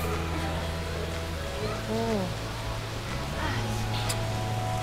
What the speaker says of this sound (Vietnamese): Trời thì mưa lâm râm.